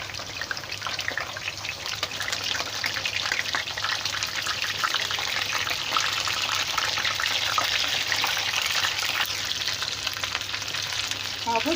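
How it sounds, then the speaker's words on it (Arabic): Mumbar, stuffed intestines, frying in a pan with a steady, dense sizzle and crackle that holds loud and even throughout, with no talking. "نبتدي بقى نقلي الممبار بتاعنا"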